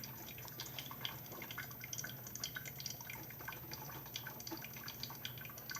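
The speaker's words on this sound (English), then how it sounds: "So far, I hear it dripping." A new Mr. Coffee coffee maker drips steadily while brewing, a faint continuous patter of falling water over a low hum, with no talking.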